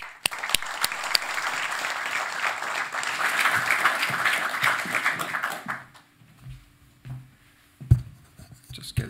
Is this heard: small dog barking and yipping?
no